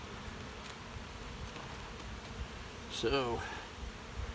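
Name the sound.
honeybees buzzing in an opened hive box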